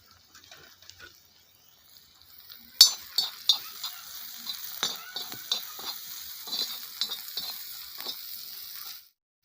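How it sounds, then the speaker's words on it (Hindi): Ginger, garlic and chili paste dropped into hot oil bursts into a sizzle, then fries steadily while a spoon scrapes and stirs the pan in close, irregular clinks. "तो हम डालेंगे आदि और लहसुन और मिर्चा का पेस्ट।"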